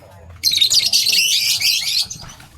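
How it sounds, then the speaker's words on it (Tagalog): Birds chirp and squawk in a bright, busy burst at a resort bird sanctuary, close and fairly loud for about a second and a half, with faint background murmur around it. "Bird sanctuary na yan."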